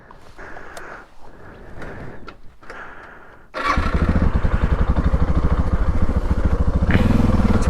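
A motorcycle engine starts up after a few seconds of quiet outdoor ambience, then runs loud and close with a steady rumbling idle until the end, at dusk on a lakeside camping trip in Ontario.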